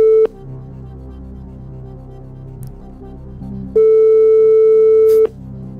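A phone ringback tone sounds while calling someone named Étoile, a steady electronic beep heard as two long pulses separated by a pause, clear and loud over a low background hum.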